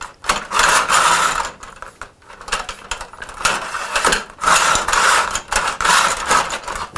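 A hand saw in need of sharpening cuts wood for a pentagonal dovetailed bowl, with close, rhythmic rasping strokes in steady back-and-forth bursts and short pauses between them.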